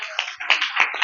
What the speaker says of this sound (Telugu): చప్పట్లు కొట్టు, అంతే.